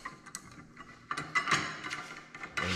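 A hand tool loosens a part on a Can-Am Maverick X3 clutch while a clutch kit is installed, making close ratcheting clicks and metallic knocks in short, uneven bursts.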